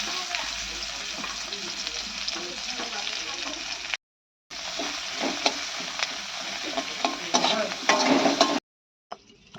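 Chopped onion frying in a pan for dal in a Bengali home kitchen, a steady loud sizzle with stirring scrapes, broken by two short silent gaps.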